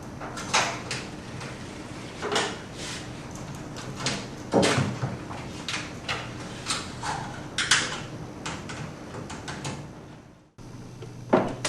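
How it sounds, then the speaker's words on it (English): Metal clamp being refitted around the door seal of a Horizon front-load washer, heard as a series of scattered clicks, knocks and clunks with brief handling noises, fairly close and without talking. "Replace the large clamp holding the door seal to the outer tub."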